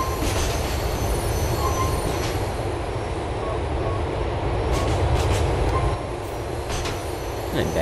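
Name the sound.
train running on rails in the video game Grand Theft Auto IV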